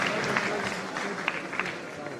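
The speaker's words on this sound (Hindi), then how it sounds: "एक बार जोरदार तालियां हमारे शिक्षकों के सम्मान में" Hall audience at a state-level teachers' honour ceremony applauding in their honour, a dense steady wash of clapping with scattered sharper claps, heard fairly close, with voices mixed in.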